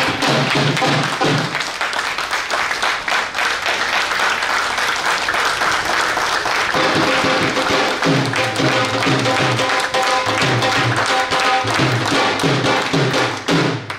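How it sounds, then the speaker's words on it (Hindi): A farewell gathering breaks into loud, prolonged applause for a retiring employee, with dense clapping joined by rhythmic background music partway through. "एक जोरदार तालियां इस सुपर अचीवमेंट के लिए।"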